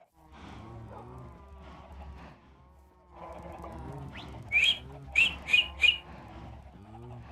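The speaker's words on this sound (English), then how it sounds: "I like the sound that the birds make in Minecraft." Minecraft bird chirps ring out as a quick run of about four short, bright calls near the end, sitting over continuous talking.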